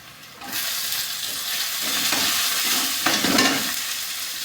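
Green chilies go into onions frying in a pan, raising a loud, steady sizzle of hot oil with stirring scrapes, lasting several seconds with no voices.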